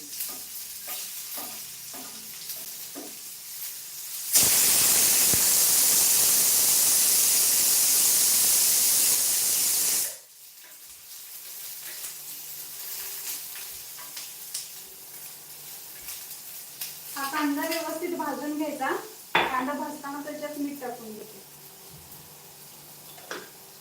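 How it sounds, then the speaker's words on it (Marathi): Curry leaves and onion hit hot oil with a loud, steady sizzle and hiss lasting several seconds, then settle into quieter frying with stirring and clinks of a utensil, a brief voice heard near the end. "या तेलामध्ये टाकते कढीपत्ता त्यात कांदा टाकून देते"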